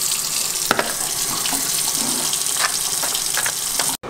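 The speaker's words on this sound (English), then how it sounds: "Then what I do is I come over here and add a little water." Tap water runs steadily into a French bulldog's food bowl, a close, continuous gushing splash with a few brief clinks, cutting off abruptly near the end.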